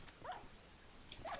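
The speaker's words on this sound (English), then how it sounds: "It looks like somebody's got a dog in the middle of the desert here." A dog in a Minecraft desert gives two faint, short whimpering yips a second apart, quiet and thin over a low background hiss.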